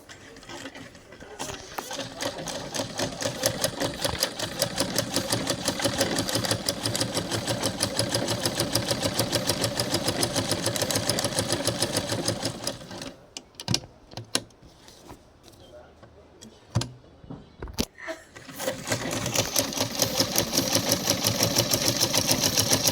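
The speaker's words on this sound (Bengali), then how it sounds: "এখন মেশিনের স্ট্যান্ডে এটি বসিয়ে নেব ঠিক করার পরে এখন আবার চালিয়ে দেখাবো যে এখন ঠিক আছে কি না" A domestic sewing machine back on its stand after a stitch-skipping fault was fixed, running in a steady, fast mechanical chatter for about twelve seconds, then short bursts with pauses before a final continuous run.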